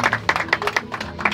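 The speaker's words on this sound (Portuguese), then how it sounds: "E quem gostou, uma salva de palmas." A small group of passengers after a catamaran tour claps in a brief burst of sharp, uneven hand claps, close and fairly loud, with a voice heard faintly alongside.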